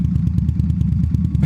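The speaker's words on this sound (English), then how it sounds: "Don't want to hear my exhaust." An Indian motorcycle exhaust burbles steadily at idle at a red light, a deep rhythmic pulsing thump that stays loud and close throughout.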